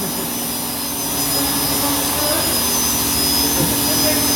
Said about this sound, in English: Wheels are being stripped down as they're being blasted.